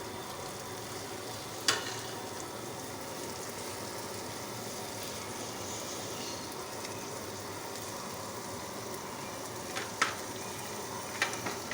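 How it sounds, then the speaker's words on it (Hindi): Curry leaves hiss and sizzle in hot oil with onions for a Hyderabadi tomato chutney, a steady close frying crackle with occasional faint clinks of a utensil. "साथ ही साथ में कड़ी पत्ता डाल दूँ।"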